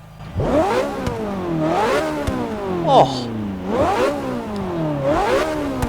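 Porsche 918 Spider engine in Forza Motorsport 6, revving hard through repeated climbing gear pulls with sharp shifts between them, loud and close, with a man briefly exclaiming over it.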